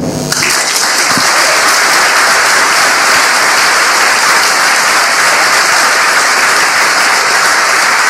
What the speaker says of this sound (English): I'd like to give uh, Karen another um, round of applause